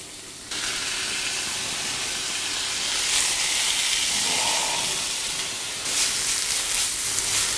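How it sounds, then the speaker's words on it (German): Bacon sizzles in a frying pan as it sweats with onion for sauerkraut, a loud steady hiss that swells brightly when more goes into the pan, no voices. "Anschwitzen, bis der Bacon so leicht glasig heller wird."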